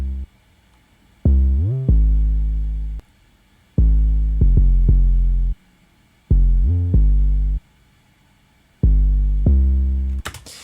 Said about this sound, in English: So let's dive into this 808.